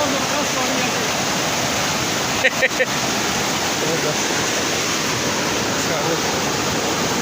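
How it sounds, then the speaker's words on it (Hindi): A fast-flowing, cold mountain stream in Kashmir rushes steadily as a loud, unbroken wash of noise, with a few brief clicks partway through. "काफ़ी तेज़ रफ्तारी पानी है"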